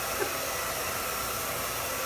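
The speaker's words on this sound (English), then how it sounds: "So again, just look how beautiful that blow dries with the color." A hair dryer blows continuously while blow-drying a classic bob haircut, a loud, steady broadband whoosh held close to the listener, with no speech heard.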